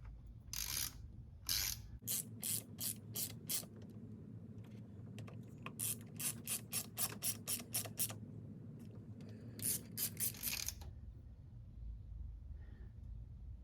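A hand ratchet tightens the bolts on the plastic valve cover of a 2007 Volkswagen Jetta 2.5L with an aluminum head. Close, crisp clicks come in quick rhythmic runs, separated by brief pauses.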